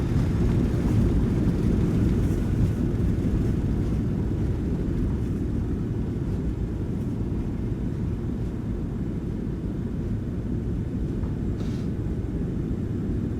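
Reverse thrust roars on a PMDG Boeing 737-600 landing in Flight Simulator 2024, a loud, steady, low-pitched rushing engine roar that holds without break and fades slightly toward the end.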